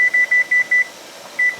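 A pressure canner's kitchen timer gives five quick, evenly spaced high beeps, then a pause and one more, loud and clear with no voices.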